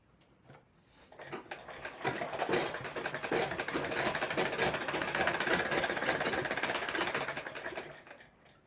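A sewing machine stitching blouse piping, a rapid even mechanical whir that starts after a moment, runs steadily at close range for several seconds, then tapers off.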